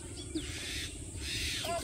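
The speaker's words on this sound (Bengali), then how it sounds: "শালিক পাখি চিল্লাইতেছে" A common myna calls in a village yard with a few faint, short squawking chirps, heard from a distance over quiet outdoor ambience.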